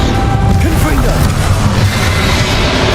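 Confringo explosive spell cast in Hogwarts Legacy, a dense blasting burst with crashing impacts under a steady wash of game noise and a speaking voice.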